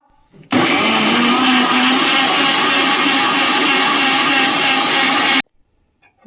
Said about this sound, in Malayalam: ഇനി ഇത് നല്ലതുപോലെ ഒന്ന് അരച്ചെടുക്കാം